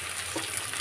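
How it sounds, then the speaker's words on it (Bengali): Onions sizzling in hot oil in a wok, a steady soft frying hiss that continues evenly with no talking. "পেঁয়াজগুলো এখন একটু ভাজতে থাকবে।"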